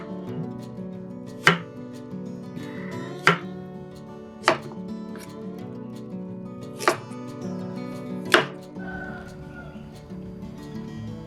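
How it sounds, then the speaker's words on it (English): A knife chops a peeled carrot into diagonal slices on a board: five crisp, evenly spaced cuts about two seconds apart, heard close over steady background music. "Peel off the skin of carrot and diagonally cut it."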